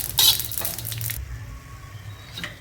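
Masala with poppy seeds dry-roasting in a pan, a brief soft sizzle and scraping stir that rises early and then settles into a faint rustle, with a light clink near the end.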